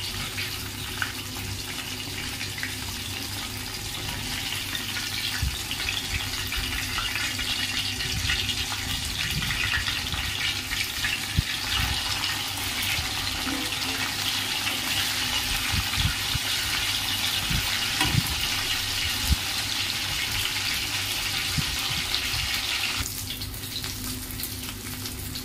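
Fish deep frying in hot oil for a home-style macha kalia, a steady loud crackling hiss with scattered pops and no talk.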